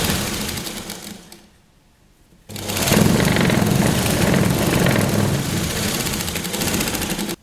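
A sewing machine runs in two bursts while stitching a folded sleeve hem on a child's Patiala dress, a brief pause between them, then a long steady whirring run, loud and close.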